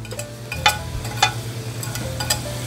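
Tofu frying in a skillet over medium heat, a steady low sizzle with a constant hum underneath and a few sharp clinks of a utensil striking the pan.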